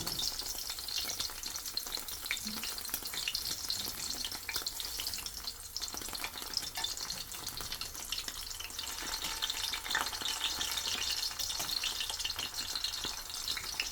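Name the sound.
meatball, pineapple, pepper and cheese pinchos frying in pan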